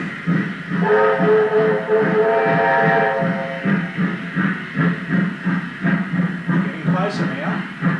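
A steam locomotive hauling a heavy load sounds a sustained multi-tone whistle near the start, over rhythmic chuffing exhaust beats from the hard-pulling engine.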